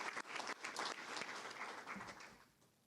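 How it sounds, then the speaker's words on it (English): Applause from the audience at an Islip town board meeting, steady clapping that holds for a few seconds, then thins out and fades toward the end. "we can give a round of applause for Quinn"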